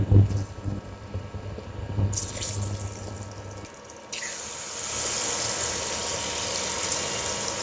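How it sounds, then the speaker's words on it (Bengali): Eggs fry in hot oil with salt, turmeric and chili in a pan. A soft hiss swells into a louder, steady sizzle that continues to the end. "ডিমগুলোকে নেড়ে ছেড়ে সুন্দর মতো ভেজে নেব"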